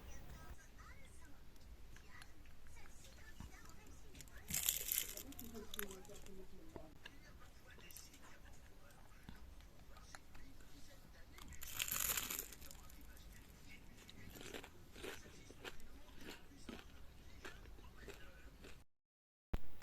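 Crispy fried chicken nems are bitten and crunched up close in a quiet ASMR setting: soft crackling throughout, with two sharper crunch bursts and no talking.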